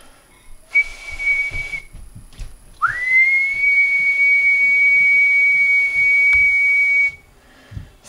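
Whistling into the microphone of a Cobra 29 LTD Classic CB radio with an IRF520 modification: one short steady tone, then a longer sustained whistle after a brief slide up, over a quiet hiss.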